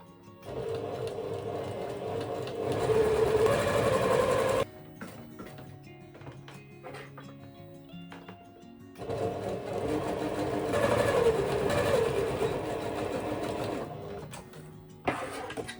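A sewing machine stitches a fabric book cover in two long whirring bursts, loud and close, separated by a quieter pause with small clicks as the fabric is adjusted.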